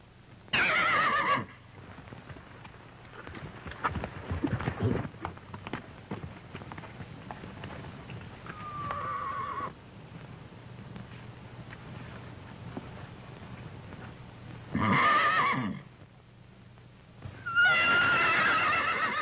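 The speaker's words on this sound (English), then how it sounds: "Something's the matter with that horse." Several loud horse neighs and whinnies from a 1935 Western, coming in separate bursts near the start, middle and end, with faint hoof clatter and rustle between them.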